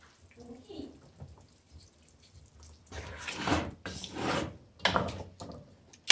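Water poured into ground masala for a yogurt chicken dish, heard as several close splashing bursts in the second half, each lasting under a second, with quiet kitchen handling sounds before them.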